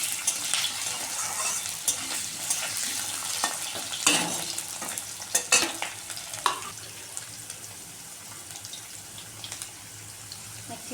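Potato pieces fry in a pan for a capsicum paneer recipe, a soft continuous sizzle broken by several sharp scrapes and stirs of a spoon, close by with no voices.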